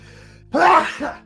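A single close sneeze bursts out after a faint steady hum, followed by a short exhale.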